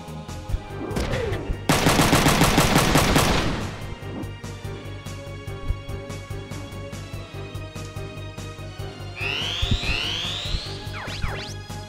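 A machine gunner fires in the mech strategy game Front Mission 3 inside a factory interior, a loud sustained burst of rapid automatic fire followed by scattered single shots and mechanical clanks.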